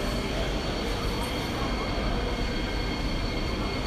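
Trains rumble steadily through Paris Gare de l'Est station at rush hour, a loud, continuous roar of wheels and engines filling the platform, with no clear voices above it.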